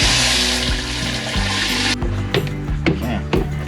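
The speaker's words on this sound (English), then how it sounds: "let's pump some water in the bilge and see if it works" A sailboat's newly installed bilge pump pushes water through hoses: a loud, steady rush of pumped water and motor hum that stops partway, leaving gurgling, sloshing and knocking, with no talk.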